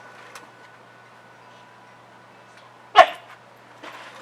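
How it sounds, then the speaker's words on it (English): A dog wanting to play gives one sharp, close bark against a quiet background, followed by a softer brief sound shortly after. "My dog wants to play again."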